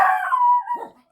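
A dog gives a single loud, drawn-out howling bark lasting about a second, near and clear with a wavering pitch that trails off at the end, sounding indoors at a home with no talking over it.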